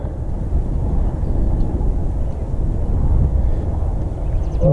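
A Conscendo Evolution RC airplane comes in to land, a steady broadband rush of propeller and wind noise that stays loud and constant, with no talking.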